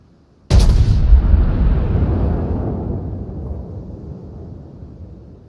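A battleship's main guns fire in a naval video game: one sudden, loud booming blast that rolls on as a long, slowly fading rumble, with no voices.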